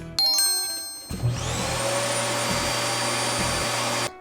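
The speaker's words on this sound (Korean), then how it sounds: "이 공간은 빌트인 진공 청소기인데요." A built-in vacuum cleaner in a camper caravan starts with a chime-like click, then runs as a loud, steady whirring roar for about three seconds before stopping abruptly.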